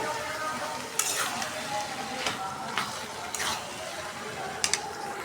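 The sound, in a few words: chickpeas frying with spices in pan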